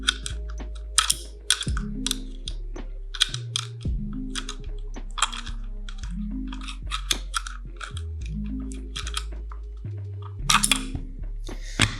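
A Wera Joker open-end wrench being flipped over and worked, making sharp, rapid clicks and ratcheting taps close up, with steady low background music underneath.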